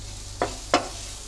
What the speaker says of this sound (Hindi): अब इसी जगह हम थोड़ा कसूरी मेथी डालेंगे और मसालों को अच्छी तरह से भून लेते हैं।